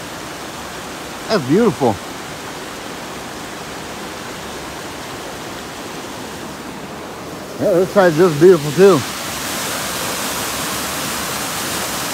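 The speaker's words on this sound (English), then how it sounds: "figured I'd show you that little bridge and that waterfall and the stream" A small waterfall and stream on the Appalachian Trail pour steadily as a constant broadband rush, nearby and even, while a person speaks briefly twice over it.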